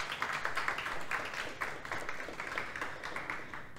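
Audience at an annual general meeting claps in recognition, a steady moderate round of applause with individual claps audible, fairly distant and without voices over it.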